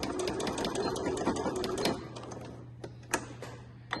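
Sewing machine backstitching the final seam of a family-size fabric beach bag, a brisk mechanical rattle for about two seconds, then a few sparse clicks and taps as the stitching stops.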